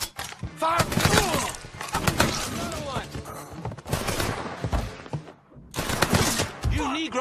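Bursts of gunfire from a Mafia 3 cutscene, dense volleys crackling loud and near in two main waves with a brief lull between, shouted voices mixed in among the shots.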